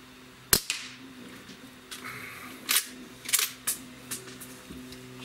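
A Barra 1866 lever action air rifle fires one sharp, close crack, followed by a series of lighter mechanical clicks and clacks spaced across the next few seconds in a quiet setting.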